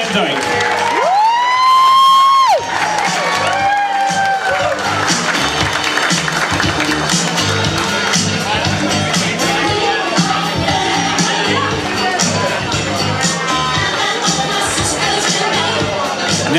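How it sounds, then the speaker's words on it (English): Wedding guests clap and cheer loudly for the bride's mother as she is escorted in, a sustained wash of applause and shouts, with a brief whistle-like siren tone early on and voices mixed throughout. "let's have a nice round of applause for the mother of the bride, Eileen O'Neill,"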